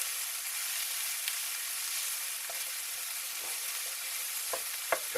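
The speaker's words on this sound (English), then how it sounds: "So I'm going to add my mushrooms now. The onions are starting to caramelise nicely." Mushrooms fry in a pan with caramelising onions for a bolognese, making a soft, steady sizzle with a few light scraping stir clicks toward the end, fairly quiet and alone.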